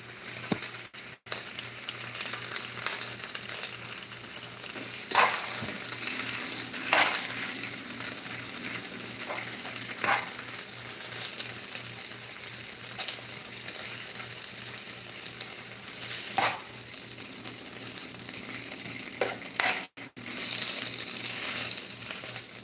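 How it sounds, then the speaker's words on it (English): Spinach sizzling in a frying pan, a steady soft crackle and hiss running throughout with occasional sharper pops and stirring scrapes, close and fairly quiet with no talking. "when you're cooking spinach, you don't want it to overcook"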